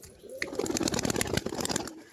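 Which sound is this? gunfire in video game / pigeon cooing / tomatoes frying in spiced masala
pigeon cooing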